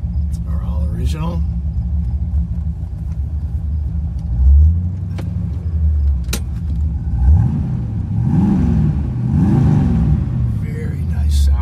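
A 1970 Corvette coupe with an original engine, Edelbrock intake and four-speed transmission rumbles at idle, a deep steady low throb with a few swelling revs in the second half.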